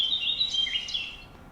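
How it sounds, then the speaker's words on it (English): A bird chirps in a quick run of bright, high tweets that rise and fall over about a second and a half, clear and fairly close with nothing else around it. "This is the chirping of a bird."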